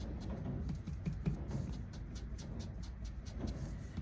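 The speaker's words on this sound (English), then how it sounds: "We have a howling wind here today" Howling wind roars as a steady low rumble with gusty buffeting outdoors, continuous and fairly loud throughout with no speech.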